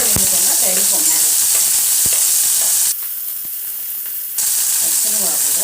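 Green chillies sizzling loudly in hot oil in a pan for a spicy bread omelette, a steady crackling hiss that drops to a quieter simmer midway before surging back, with a few sharp pops and no talking.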